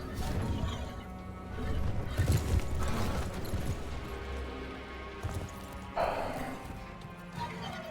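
Horse hooves clip-clop steadily in a farming video game as the player rides, a moderately loud rhythmic patter layered over game music and ambient sounds, with a brief louder thump near the end.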